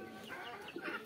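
Hens clucking inside a poultry farm shed, a steady mix of soft overlapping clucks and calls close by throughout, with no talking.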